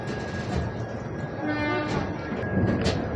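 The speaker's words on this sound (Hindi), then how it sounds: "कोटा पर खड़ा दिखा हमको एकदम बिल्कुल brand new diesel locomotive 71000 WAP5" A train stands at Kota station near a brand new diesel locomotive, numbered 71000 and called a WAP5, giving a steady low rumble with a thin sustained tonal whine over a moderate, even din.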